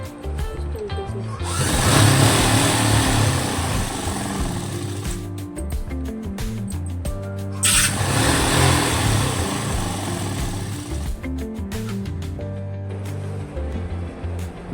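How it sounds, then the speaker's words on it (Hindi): A sewing machine stitching a palazzo runs in long bursts of fast, whirring mechanical chatter, close and fairly loud, pausing briefly between runs. "अब हमें इसकी एक सिलाई सिर्फ इसके बीच में लगानी है"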